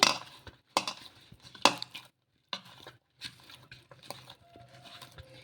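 Paratha dough being mixed by hand with a little oil, close-up wet squishing and patting in short irregular bursts separated by brief pauses, with no talking.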